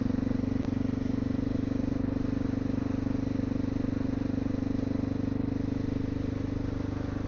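A Honda XR650L single-cylinder motorcycle engine on a slow ride through the Ozarks, a steady, loud low throb with constant wind rush and no speech.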